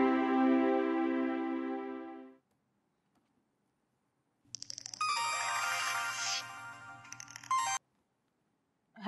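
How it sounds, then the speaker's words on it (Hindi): A phone ringtone plays indoors, a loud chiming electronic melody lasting a few seconds that cuts off, followed after a pause by a second jingling tone burst. "हिरा, तुमने मुझे फोन किया था?"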